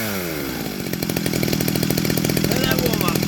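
A ported Shindaiwa 390sx chainsaw fires up and settles into a loud, close, steady rapid buzz after a brief rough start.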